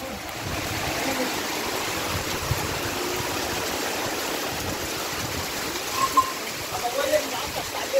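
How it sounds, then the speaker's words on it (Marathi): Rain falls in a continuous, even rush of broadband patter, with a few louder knocks and faint sounds near the end. "फायनली पाऊस आला आहे ना."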